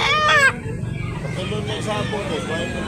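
Rooster crows briefly and loudly at a gamecock sale in Tabunok, Talisay, Cebu, with a harmonic call in the first half-second, followed by steady crowd noise and nearby talk.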